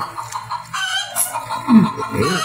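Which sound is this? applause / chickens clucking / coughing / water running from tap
chickens clucking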